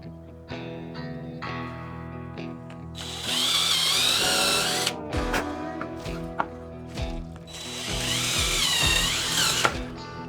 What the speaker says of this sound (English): I'm going to go ahead and drill the hole for the knob on the front before I glue this on